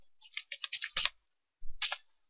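A computer keyboard being used for a Photoshop shortcut, a quick cluster of key clicks, a pause, then another short burst of clicks, close and quiet.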